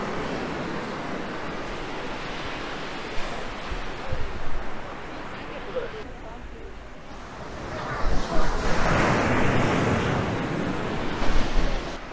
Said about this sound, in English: the beach here is called Hac Sa Beach